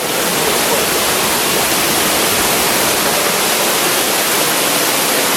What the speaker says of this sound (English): This is the little part of the little waterfalls.